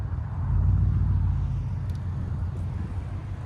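A 2023 Cadillac Escalade with a 6.2L V8 and Borla S-Type exhaust gives a deep, steady low rumble at close range, swelling slightly early on and then holding.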